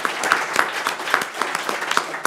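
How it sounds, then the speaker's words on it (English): Applause from the audience at an alumni entrepreneurship networking event, a steady patter of many hands clapping with a few crisp louder claps near the listener, moderately loud throughout. "round of applause"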